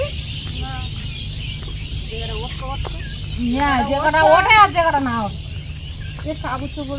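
Several chickens cluck and squawk close by, with a louder burst of agitated clucking midway, over a constant low hum and faint background voices.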